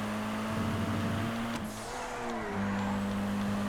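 A Sunrise R race car in a GTA FiveM street race, its engine droning steadily with a pitch dip and recovery around a gear change or corner, heard alone without talk.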